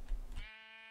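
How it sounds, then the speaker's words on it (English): A single Minecraft sheep bleats in the video game, one short, close, buzzy electronic baa that fades out cleanly. "Is it a pink sheep?"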